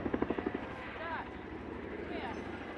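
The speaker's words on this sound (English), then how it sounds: "We'll start the show by seeing the aircraft pull up for a wing over, rapidly turning back round onto target" An RAF Boeing Chinook helicopter flies a display at the Duxford summer airshow. Its rotors open with a quick run of rhythmic thumps, then it settles into a distant, steady hum while a commentator talks over it.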